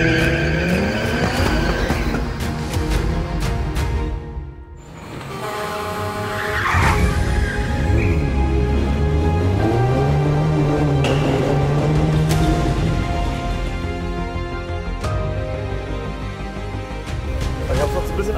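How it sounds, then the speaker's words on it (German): Cars starting and driving off during a film trailer shoot, engines revving loudly with sharp tire skids and squeals, one pitch sweeping upward as a car accelerates away, with talk in the background. "Und versuche jetzt einfach mal, den startenden Autos hinterher zu fahren."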